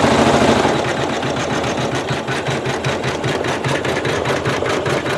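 A Janome sewing machine with a size 14 top-stitch needle runs at full speed through microfiber fabric, its fast, even mechanical pulse close and steady for several seconds.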